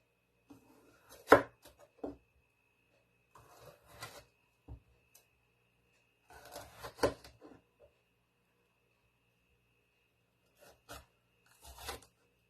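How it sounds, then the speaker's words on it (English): A knife chopping a bell pepper into sections on a cutting board, a few sharp clustered cuts separated by quiet pauses, close and clear. "I just turn the pepper while I'm cutting."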